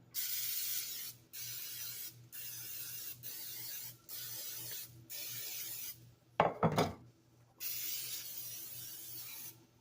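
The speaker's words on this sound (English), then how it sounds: "I'm going to go ahead and spray my pan." Several short hissing bursts of cooking spray onto a pan close by, separated by brief pauses, with a quick clatter partway through.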